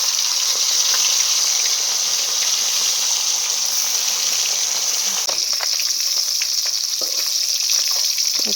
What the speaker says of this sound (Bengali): এরপর মাছগুলি ভাজতে দিয়ে দিল।